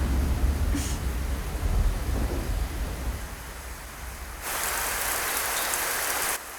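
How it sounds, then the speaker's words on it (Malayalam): Steady rain pours down, a dense hiss that stays loud throughout and swells heavier near the end, with a faint low rumble underneath and no one speaking. "മഴ ഇപ്പൊ എവിടുന്ന് വന്നു?"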